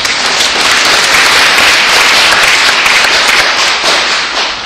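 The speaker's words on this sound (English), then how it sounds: "Let's give them a round of applause" An audience at a watershed summit applauds loudly and continuously, dense clapping filling the whole stretch without pause.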